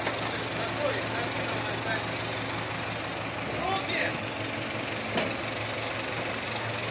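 A tractor pulling a feed distributor wagon on a dairy farm drives off, its engine idling and rumbling steadily at middling distance, with people talking over it.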